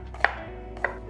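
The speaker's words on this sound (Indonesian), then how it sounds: "cabai-cabeannya kita potong kecil-kecil biar lebih gampang ke blendernya" A knife chops chili peppers and garlic into small pieces for a blender paste, giving two sharp, distinct cuts against a board, close and clear with no talking.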